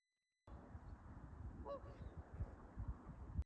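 Swans with three cygnets on the water, giving a few honking calls over a low, steady background of wind and water, moderately distant.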